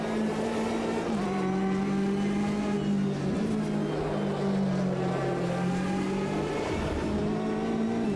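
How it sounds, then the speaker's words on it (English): Porsche race car in the sim racing game Automobilista 2 at Laguna Seca, its engine droning loud and close with a steady harmonic whine that dips and rises through gear changes, heard alone without talk. "listen to that Porsche!"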